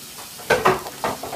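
Drained ground meat for chili tumbles back into a cooking pot, giving a few short scraping, sizzling bursts close up.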